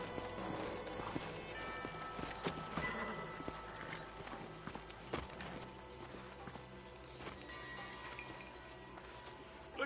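Horses trot in the video game Red Dead Redemption, a steady clip-clop of hooves under a busy bed of game music and ambience, moderately loud throughout.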